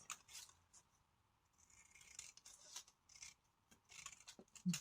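Scissors cutting paper strips for a Christmas paper star, quiet close snips and rustling slices coming in short uneven bursts.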